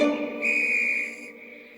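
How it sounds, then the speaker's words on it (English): A railway guard's long, shrill whistle blast held steady for over a second, then trailing off, loud and close with no voices. "The guard blew his whistle till he had no more breath,"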